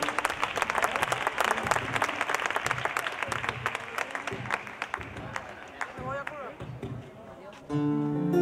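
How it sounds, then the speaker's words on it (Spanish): Crowd applause at a tribute concert, brisk clapping and cheers filling most of the stretch before thinning out, as a voice speaks and a bright musical tone begins at the end. "este aplauso para vosotros"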